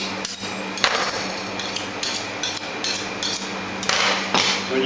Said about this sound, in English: I'm going to get my steel and just get that edge on it.